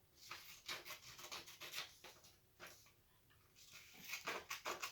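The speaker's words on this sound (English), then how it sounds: "Trim my shipping label to size." Quiet, close scraping and rubbing as a paper shipping label is trimmed to size, coming in short irregular bursts with brief pauses between strokes.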